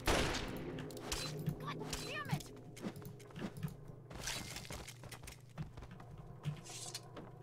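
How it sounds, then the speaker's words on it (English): Loud gunfire in Fallout 3, with repeated sharp shots and bursts against a busy game soundscape with eerie music, while voices talk over the action. "Spooky music, very loud gun"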